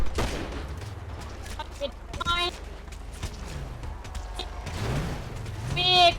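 Gunfire in the video game GTA V, with scattered sharp shots and short bursts rising near the end, mixed under excited overlapping talk from players.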